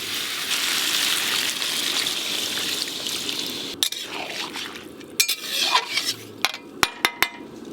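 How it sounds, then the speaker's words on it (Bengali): Water gushes and pours steadily into a pot of spice-coated vegetables for shukto, then a spoon clinks and scrapes against the pot in sharp, separate knocks. "এবার জল দিয়ে দেবো।"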